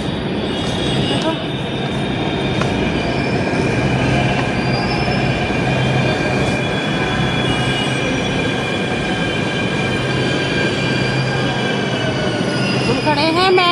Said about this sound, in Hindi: हम खड़े हैं मेट्रो पे